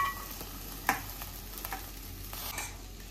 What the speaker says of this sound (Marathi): आता हलवून घेतली खिचडी,